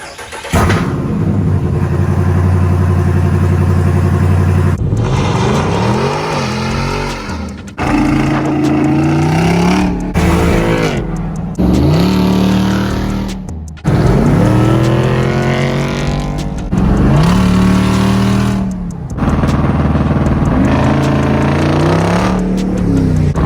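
Jeep Wrangler Rubicon 392 V8 with a custom exhaust and programmer, loud and close, revving repeatedly in rising and falling bursts with short gaps between pulls, and no talking.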